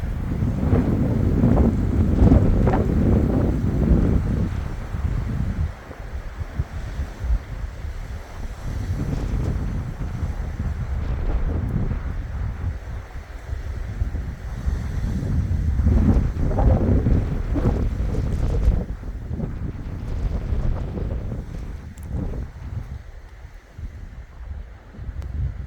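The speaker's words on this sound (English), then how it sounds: "the wind is blowing me around a little bit" Outdoor wind buffets a microphone on a hillside above the Klamath River near Copco, a heavy low rumble that surges and eases throughout.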